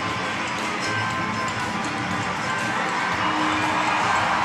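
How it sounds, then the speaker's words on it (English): A large crowd cheers and shouts in a big indoor arena during a synchronized swimming team routine at the 2013 FINA World Championships in Barcelona, a loud, sustained roar of voices with no break. "the crowd are going wild"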